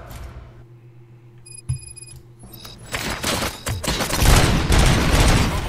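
Rapid gunfire from the video game RoboCop: Rogue City breaks out after a quiet, electronic-toned opening, building into dense, loud volleys of overlapping shots.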